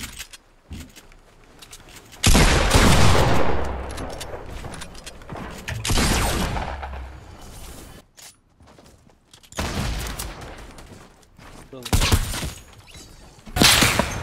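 Bursts of video game gunfire aimed at the player, coming in loud, dense volleys of rapid shots separated by quieter gaps, with a final close burst at the end.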